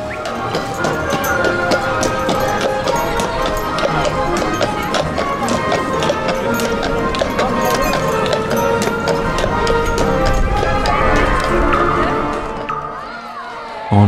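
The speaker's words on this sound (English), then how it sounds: "The paddy wagon and the horse-drawn streetcar." Hooves of a horse pulling a horse-drawn streetcar along Main Street USA at Disneyland Paris, a rapid clip-clop rhythm under loud, steady music and crowd noise, fading near the end.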